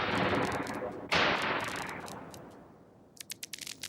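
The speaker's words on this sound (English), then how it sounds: "there's a fairly normal explosion, which is coming out of there. If we put it through this box, you'll see that it's got a sort of fireworks sound" Synthesized explosion run through an effects box into a fireworks-like sound, 1980s electronic studio gear: a loud broad roar with a sharp burst partway through, decaying into a scatter of crackling pops at the end, no voices.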